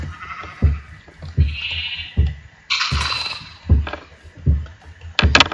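Sheep in the Minecraft video game bleat repeatedly, several short cries spaced about a second apart among soft thumps and game sounds, fairly loud and close.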